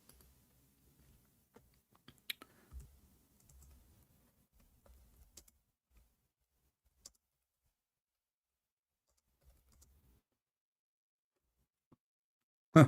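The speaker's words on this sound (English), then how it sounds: "I'm typing in English." A computer keyboard gives sparse, soft clicks and taps in a quiet room, scattered irregularly with short bursts and long pauses between keystrokes, ending on a louder knock.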